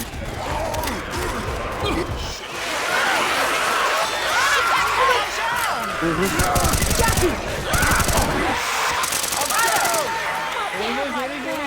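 Bursts of rapid gunfire in Left 4 Dead 2, on expert difficulty, rattle through a noisy game battle, with speech murmuring underneath and a few denser volleys toward the middle.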